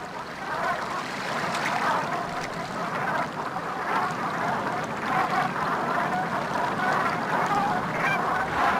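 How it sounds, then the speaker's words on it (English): A flock of Black Brant geese honking and murmuring continuously at a moderate distance over eelgrass in Puget Sound, with a soft watery background. "Black Brant geese flock here to feed on their favorite food, eelgrass."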